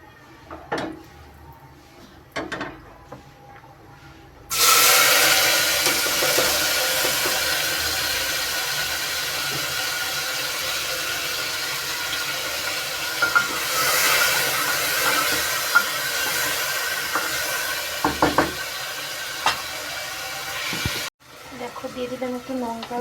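A pressure cooker releases a loud, steady hiss of steam that runs for about sixteen seconds before cutting off abruptly, with kitchen clatter and faint talk before and after.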